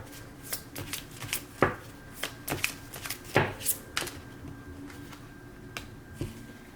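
Tarot cards are shuffled and pulled during a reading, a close run of crisp slaps and flicks with irregular rhythm and a few sharper snaps, no voices over them.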